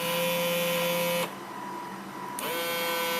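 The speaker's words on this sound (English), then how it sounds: "The bow thrusters in operation." Bow thrusters whirring on a 1:100 scale Engel Russian Typhoon submarine model, a steady electric motor whine that drops in pitch and level briefly before spinning back up, close and mechanical with no talk.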